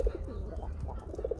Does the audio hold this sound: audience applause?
no